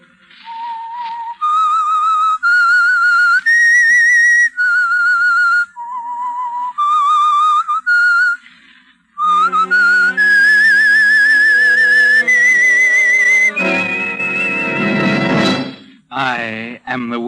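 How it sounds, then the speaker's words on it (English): A clear whistled melody serves as the theme signal of a radio mystery program, a series of sustained tuneful notes rising and falling in phrases, followed by a swelling orchestral flourish. "That whistle is your signal for the Signal Oil Program,"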